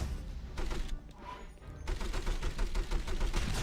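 Rapid gunfire in the video game 007: From Russia With Love, dense bursts of automatic shots with a brief lull in the middle, loud and continuous.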